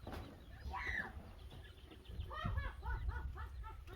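Chickens and ducks on a farm in Bacsay, Camiling, Tarlac, with a series of soft clucks and quacking calls at close to middle distance over quiet outdoor background noise.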